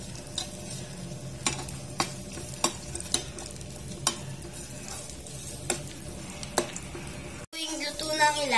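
Egg frying in a pan for an omelette with ground meat, a steady soft sizzle under repeated scraping and tapping of a utensil against the pan, ending with a brief burst of clatter.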